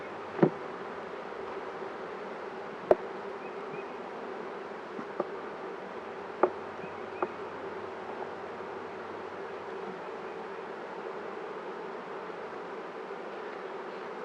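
Steady buzzing of many honeybees at an open hive during a spring inspection hums continuously, with a few sharp clicks and knocks scattered through it.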